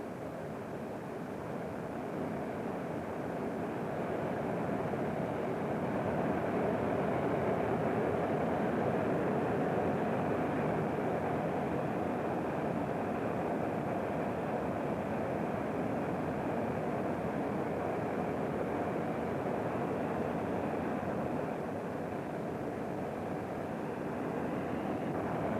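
A North American F-107A Ultra Sabre jet engine runs steadily before taxi, a broad sustained roar holding at constant loudness throughout, with no voices.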